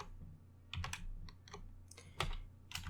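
Short bursts of computer keyboard typing, quick clustered key clicks with brief pauses over a steady low background hum, moderately close and fairly quiet.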